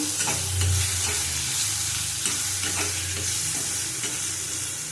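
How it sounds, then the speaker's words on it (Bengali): Spices with Kashmiri chili powder sautéing in hot oil for a pabda fish curry with bitter gourd and eggplant, sizzling steadily and loudly while a spatula scrapes and stirs in a loose rhythm. "অল্প করে কাশ্মীরি লঙ্কার গুঁড়ো দিলাম। আবার ভালো করে একটু কষিয়ে নেব।"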